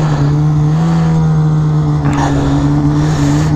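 An Arctic Cat Assault snowmobile engine revving in deep snow drifts, a loud, steady, droning engine tone held close up throughout with no talk.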